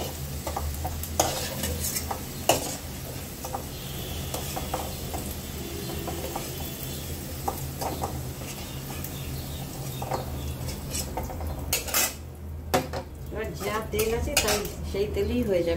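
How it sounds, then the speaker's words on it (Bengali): A utensil stirs and scoops fried potatoes in a pan over a soft sizzle of hot oil. The scrapes and clinks of metal come close and irregular, with a few sharp knocks against the pan. "আলুগুলো রান্না করে ভাজা হয়ে গেছে,"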